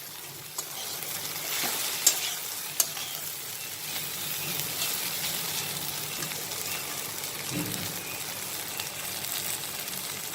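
Okra (lady's finger) fries in oil with red chili powder, a steady, fairly loud sizzle throughout with a couple of faint clicks of a utensil.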